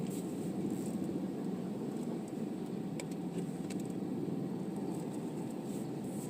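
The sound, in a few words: heavy holiday road traffic near pier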